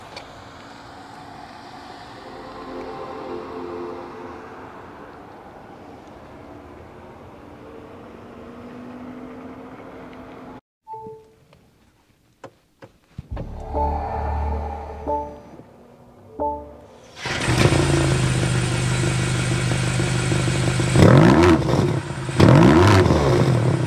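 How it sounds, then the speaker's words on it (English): 2023 BMW XM engine starting with a short cranking burst, then the exhaust revs up and holds a loud steady drone, with quieter interior noise before the start. "rivet up so you can hear that exhaust note."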